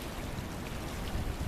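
Muddy, swollen Potomac River water rushing past a bridge, a steady broadband roar of fast-moving current heard close by and continuous, with no voices.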